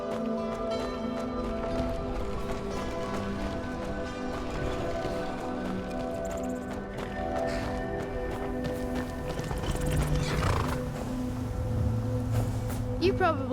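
Horses at a stable, with clip-clop hoofbeats on hard ground and a brief whinny, moderately close, heard under people talking and a bed of other sounds.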